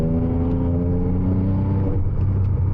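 A modified Porsche Cayman 987 Turbo tuned to about 700 horsepower driving at night, its engine droning steadily with layered harmonics from inside the cabin, the note dropping and roughening near the end as the throttle eases.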